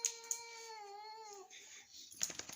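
A cat lets out a drawn-out, wavering yowl, faint but clear, trailing off after about a second and a half, followed by a few soft clatters in a garage where a Dodge Cummins sway bar linkage is being worked on.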